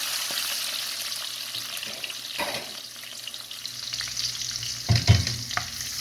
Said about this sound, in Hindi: यहाँ लहसुन का ही तड़का है।